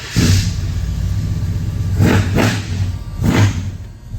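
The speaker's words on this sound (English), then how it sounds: "when you hit the key in this truck, it runs flawlessly" A 1977 Chevrolet C10 Silverado short bed pickup engine idles with a deep, close rumble, revved three times in quick swells, two close together and one after a pause, with no talking.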